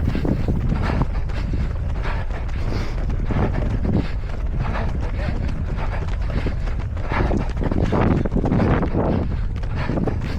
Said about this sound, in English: The wind is blowing from the front right at this point.